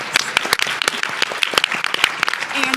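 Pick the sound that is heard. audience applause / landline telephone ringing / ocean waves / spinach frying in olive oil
audience applause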